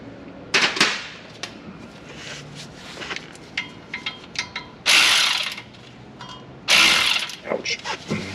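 A socket wrench ratchets in bursts of rapid clicks while removing the rear brake caliper bolts on a 2017 Ford Transit, the clicking close and loud, with brief pauses between strokes.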